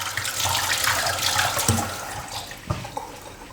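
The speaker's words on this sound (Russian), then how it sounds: "Поэтому я открываю кран" Water runs steadily from a kitchen tap as a fresh zucchini is washed beneath it, a close, continuous splashing stream with a couple of soft knocks.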